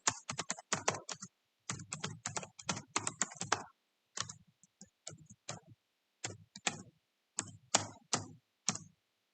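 Java database code being typed on a computer keyboard: rapid bursts of close, crisp key clicks broken by short pauses, with no talking.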